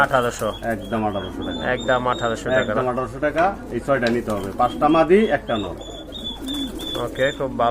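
Pigeons coo close by at a pigeon sale, partly masked by someone talking steadily over them.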